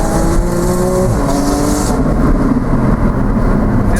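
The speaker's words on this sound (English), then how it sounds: "You can hear like a backfire through the wastegate on the gear shifts." A turbocharged Porsche 987.2 Spyder with a PDK gearbox accelerates hard, engine pitch stepping up through gear changes with brief crackling pops at each shift, heard loud from inside the car.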